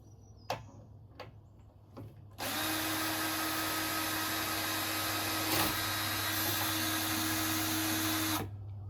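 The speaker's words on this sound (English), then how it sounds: "I think maybe I should finish getting it in with the drill." A power drill runs steadily for about six seconds while driving into a raised garden bed, preceded by a few sharp clicks and taps and stopping abruptly near the end, loud and close.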